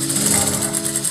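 An electric sewing machine runs steadily, stitching a reinforcing lock stitch at the armpit seam of a shirt. The hum is close and continuous, with a fast mechanical needle rhythm and no voices.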